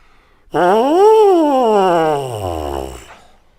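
A lone buzzy, brassy lip buzz on a trombone mouthpiece alone rises briefly, then slides slowly downward in pitch over about two and a half seconds before cutting off.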